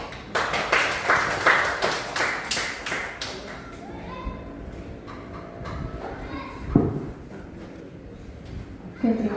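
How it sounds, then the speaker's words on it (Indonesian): An audience at an elementary school event applauds its team with a run of loud, fairly rhythmic hand claps that fade after a few seconds, leaving quieter room noise and talking. "Sekali lagi kita berikan tepuk tangan dong untuk rekan kita, tim kita ya."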